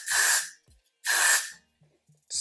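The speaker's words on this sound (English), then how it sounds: "spray this part down one more time" Two sharp bursts of a spray bottle misting a synthetic wig, each a quick hissing spritz about a second apart, with a third starting at the end.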